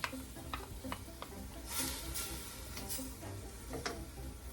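A rib of celery goes into a pot of cabbage soup and is stirred while it cooks, giving soft, steady sizzling with a few quiet scraping strokes of the spoon, close but low in level.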